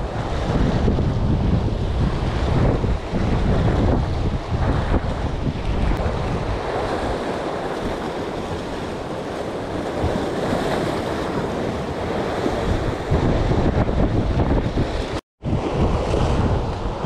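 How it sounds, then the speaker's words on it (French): Strong wind buffets the microphone at the seashore during sea fishing from the shore, a loud, continuous roar mixed with surf that cuts out briefly near the end. "ça fait vraiment trop de vent là"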